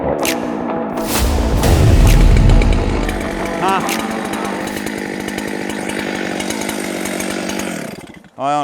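Chainsaw cutting through a large felled tree, a loud steady roaring drone near the mic that bogs down mid-cut, then runs on and cuts off near the end.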